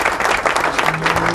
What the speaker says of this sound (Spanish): Dale fuerte las palmas al Señor Jesucristo